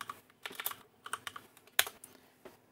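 Short burst of typing on a computer keyboard to rename a folder, a handful of crisp irregular key clicks with one stronger press near the middle, close and without speech.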